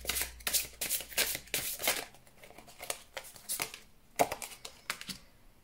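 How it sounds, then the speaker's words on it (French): Tarot cards being shuffled and drawn, giving a series of quick, crisp riffling and flicking bursts close by, with short pauses between handfuls and a sharp slap near the end. "Je vais reprendre quelques cartes pour avoir des informations supplémentaires"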